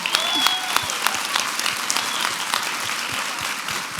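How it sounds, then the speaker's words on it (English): An audience claps steadily, a dense patter of applause sustained throughout at moderate volume. "Give her a round of applause for showing up."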